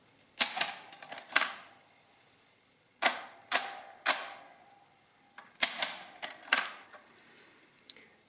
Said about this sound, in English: You can press a button and the number gets added immediately, but you do then have to press enter to finalize the addition.